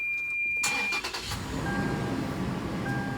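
A 4-liter V6 rear-wheel-drive car cranks briefly and catches, then settles into a close, steady idle with a low rumble and a faint high whine.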